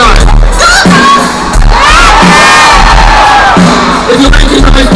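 A concert crowd waiting for the performer cheers, screams and whoops continuously in a loud, dense wall of voices, with some shouts rising above the roar.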